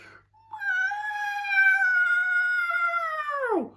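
A single long, rising and falling cat caterwaul, loud and close, that swoops down sharply at the end, heard alone.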